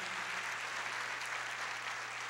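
Applause from a church congregation praising Jesus, a steady unbroken wash of many hands clapping, moderately distant, with no voices over it.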